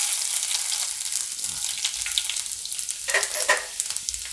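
Garlic sizzling as it drops into hot oil with cumin, a bright, continuous frying hiss up close, briefly swelling with a spattering burst partway through, no voices.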